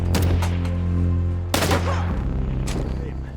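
A burst of film-scene gunfire in a shootout: rapid overlapping shots and heavy booms, loud and close, with a dense volley at the start and another sharp blast midway.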